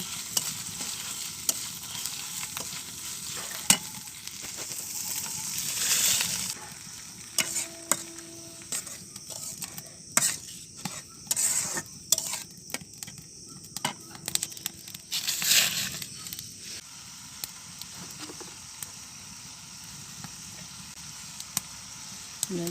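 Ground spice masala with ginger paste fries lightly in a pan, a soft sizzle broken by frequent scraping and rustling stirs, close and fairly quiet with a faint low tone in places.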